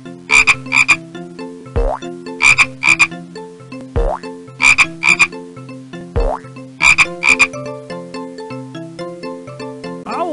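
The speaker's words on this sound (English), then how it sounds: "Frog." Cartoonish frog croaks from the PC game Muppet Babies: Animals in Nature, sounding in loud repeated bursts of two quick croaks over a bouncy musical jingle, repeating about every two seconds.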